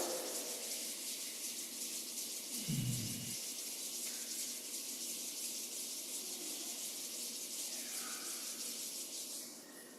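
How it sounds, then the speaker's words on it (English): Palms rubbed together during a relaxation exercise, a continuous soft hissing friction lasting the whole stretch, close and even, with no speech over it. "Rubbing the palms together."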